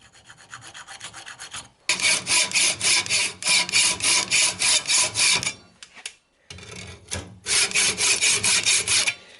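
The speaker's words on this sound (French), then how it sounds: "avec une lame de scie, allez, je vais marquer les bords pour repérer là où je dois découper" Hand saw blade scoring cut marks into a metal nut from a Citroën Traction front axle part, with repeated rhythmic rasping strokes in two bursts separated by a short pause, close and loud.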